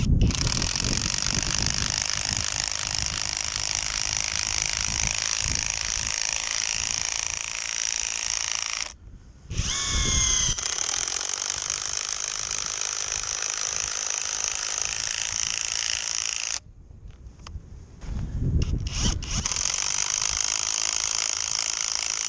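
Greenworks impact driver with a socket drives lag screws into a small stump: long, loud rapid hammering bursts that pause briefly between screws, close and alone.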